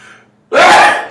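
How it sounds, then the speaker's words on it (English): A sudden, loud sneeze bursts out close by after a brief quiet breath, a single explosive blast that trails off. "got the sneezes this morning"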